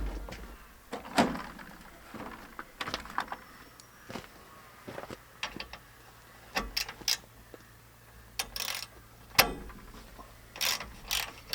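Ratchet clicking in short bursts while nuts are undone on a bar during maintenance of a Kubota tractor, with scattered metallic clacks and pauses between bursts, fairly close and moderately quiet.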